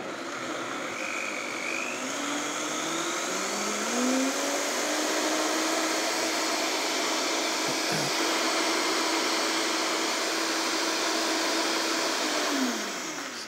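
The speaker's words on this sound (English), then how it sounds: "So then that is now blended." An electric blender runs on a lower setting, pureeing vegetable soup seasoned with lemon in a TV kitchen; a steady, dense whirring roar holds unbroken for about thirteen seconds with no voices.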